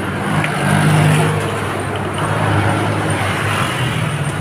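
Steady road traffic on a busy street in Taguig, with a continuous wash of engines and tires and cars passing close by, a constant roar without clear breaks.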